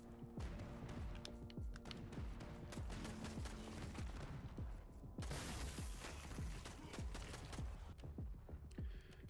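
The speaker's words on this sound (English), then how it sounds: "Oh, yes, assault rifle." Rapid assault rifle fire from the video game Dark Light: Survivor, dense bursts of sharp loud shots rattling continuously with a brief heavier blast midway, all close and full.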